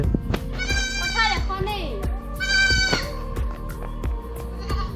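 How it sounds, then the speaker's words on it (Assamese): Goats bleat in a couple of wavering, high calls close by at a village temple beside paddy fields, with voices and outdoor noise around them. "এই মন্দিৰৰ ছাগলী"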